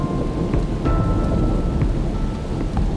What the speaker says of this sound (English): Until, that is, the rain just gets to be a bit too much.